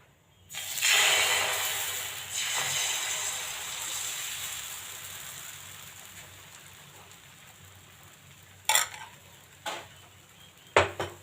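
Dosa batter stirred in a bowl for tomato dosa, a dense wet swishing that starts loud and slowly fades, ending in a few sharp clinks of utensil against the bowl.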